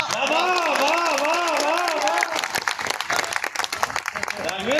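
Audience at a Hindi kavi sammelan poetry recital in Etawah clapping, loud dense applause under a sustained sung or chanted voice in the first half, then continuing as looser, uneven clapping.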